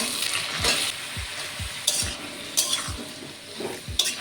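Sliced onion, chopped garlic and green chilies frying in oil in a pan, with a continuous close sizzle and a steady rhythm of low spatula scrapes and taps as the mix is stirred, with no voices.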